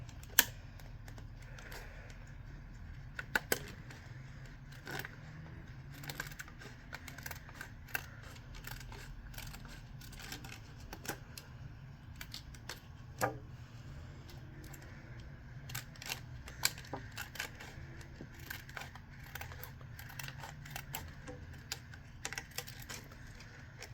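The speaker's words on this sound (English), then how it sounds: "I'm gonna get stronger scissors." Scissors snip a recycled plastic border away from a specimen display window, a steady run of small crisp clicks and cuts close up over low room hum, with no talking.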